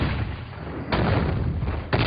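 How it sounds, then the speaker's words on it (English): Cartoon homemade liquor bottles exploding: two loud, booming blasts about a second apart, each a sudden broadband burst that hangs on with a rumbling tail, heard alone without talk. "Your homemade liquor is exploding again."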